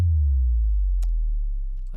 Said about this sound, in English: kind of like this sub drop here